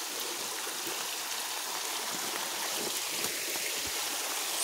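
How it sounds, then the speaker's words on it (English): A deep creek flows steadily nearby, a continuous broadband rush of moving water with no pauses, even in level throughout. "We got a deep river here. Deep creek."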